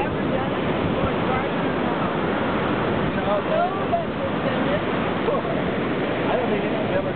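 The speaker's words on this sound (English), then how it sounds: "These are monster waves." Ocean surf off San Clemente, heard from the water during a kayaking outing: a steady, loud broadband wash of breaking waves with wind noise on the microphone, continuous throughout with no distinct breaks.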